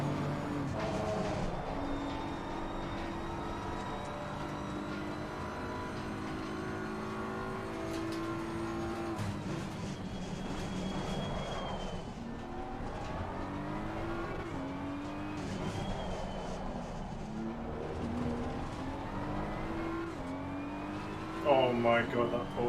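BMW M4 GT3 race car engine at Silverstone in a racing video game, droning and shifting pitch continuously through gear changes with tire noise, and a brief louder burst near the end.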